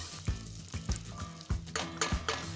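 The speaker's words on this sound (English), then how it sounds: "add diced bacon for a smoke flavor. And cook the bacon until it starts to brown." Diced bacon frying in a tablespoon of butter in a pan, a steady sizzle broken by periodic stirring scrapes and clunks, close and moderately loud with no talking.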